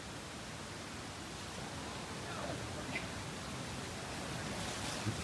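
A large waterfall rushes in a constant broadband roar, steady and enveloping from start to finish, with no clear voices above it.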